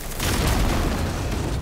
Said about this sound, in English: some of the explosions